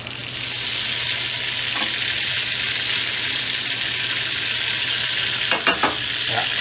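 Duck confit frying in a pan with adobo sauce gives a steady, close sizzle throughout, with a few sharper crackles and pops near the end.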